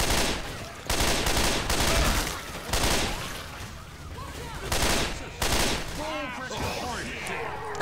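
Bursts of automatic gunfire in Left 4 Dead 2, coming in loud volleys separated by short lulls, with a voice speaking between the shots.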